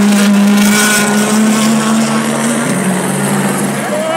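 A WRC rally car roars past at a Safari Rally spectator stage in Kedong, Kenya, loud and close, its engine note sweeping and dropping as it goes by, with crowd noise behind.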